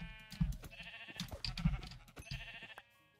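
Sheep in the Minecraft video game bleat close by, several short baas in a row, with faint game background sounds between them.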